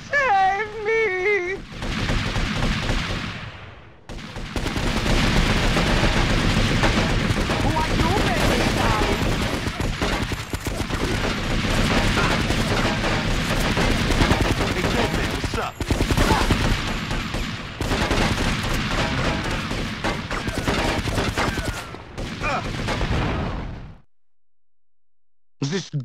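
Sustained bursts of gunfire from a gun in GTA Vice City Stories, loud and dense for most of the stretch, with game characters talking over the shooting before it cuts out near the end.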